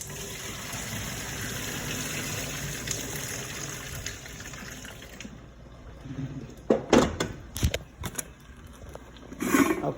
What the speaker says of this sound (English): My next step is going to be draining my noodles and allowing them to sit.